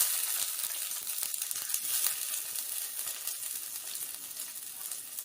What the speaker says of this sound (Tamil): இப்போ வந்து கட் பண்ணி வச்ச ஒரு பெரிய வெங்காயத்தை நம்ம இதில் போட்டுக்கலாங்க.